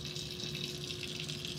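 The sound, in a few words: tap water rushing through a vacuum filtration aspirator nozzle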